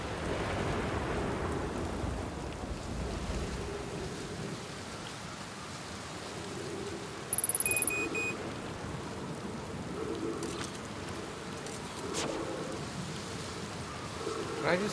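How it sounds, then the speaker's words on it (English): Heavy rain and rumbling thunder from a big storm in the video game Outer Wilds, a steady broadband downpour with rolling low rumbles, a brief tonal chime midway and sharper crackles later, continuous and fairly loud. "That is a big storm."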